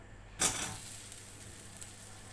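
Half a spoon of butter dropped into a hot pan for sauce, a quick burst of sizzle that fades into a faint, steady crackle, close and soft.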